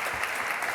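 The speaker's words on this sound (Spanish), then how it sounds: "aplauso" Audience applause after a talk at an event, a brief steady burst of many hands clapping with no voices over it.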